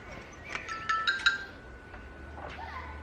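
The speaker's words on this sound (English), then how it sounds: "Hold on, that's a phone." A phone ringing with a short melodic ringtone in a quiet room, the tone rising and repeating in brief bursts, close and fairly clear, with no talk.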